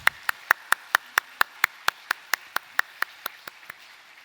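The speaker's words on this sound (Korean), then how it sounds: "영광의 박수 올려드리겠습니다." Church congregation at a Sunday worship service clapping in slow unison, about eighteen sharp, evenly spaced claps over four seconds, tapering off softly at the end with no talking.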